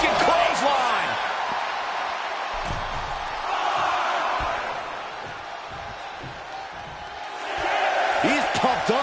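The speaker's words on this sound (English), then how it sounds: "a wicked clothesline" A wicked clothesline slam lands in WWE 2K25, a thudding impact amid steady arena crowd noise that surges and cheers, with commentators talking throughout.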